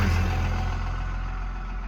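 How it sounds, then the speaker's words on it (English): Traffic noise from cars passing on a road, a steady rumbling engine wash that is loudest at the start and fades slightly as the vehicles move away. "I'm gonna wait for these cars to pass"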